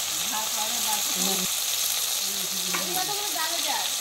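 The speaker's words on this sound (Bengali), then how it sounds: "এবার দেওয়া হলো পেঁয়াজ, এগুলো ভালো করে ভেজে নিয়ে তারপরে মশলা দেওয়া হবে" Onions sizzle and fry in a pan for an egg curry, a soft steady hiss with faint stirring scrapes and a few clinks, fairly quiet throughout.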